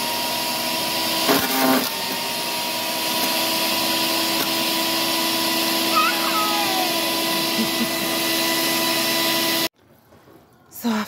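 A wood chipper grinds steadily through wood, its loud continuous mechanical roar holding for most of the stretch before cutting off abruptly near the end, leaving a quieter background with a few small knocks.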